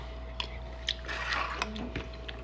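Soft, close bites and wet crunches of pickled baby corn with Old Bay seasoning, a few separate crisp snaps followed by quiet chewing, no talking.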